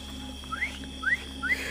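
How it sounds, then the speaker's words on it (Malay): Three short rising whistles, evenly spaced and fairly faint, ring out over a steady low hum during a night exploration near a waterfall at Kebun Bunga. "Ada bunyi. Siul."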